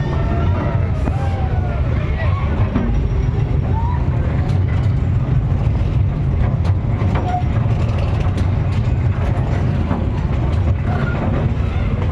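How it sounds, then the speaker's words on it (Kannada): A slow toy train circles a park in Bangalore, giving a loud, continuous close rumble with light mechanical rattling and clatter throughout. "ಟಾಯ್ ಟ್ರೈನ್ ಅಂತಾರೆ. ಸೊ ಅದಕ್ಕೆ ಇಷ್ಟೇ ಸ್ಪೀಡಲ್ಲಿ ಹೋಗೋದು"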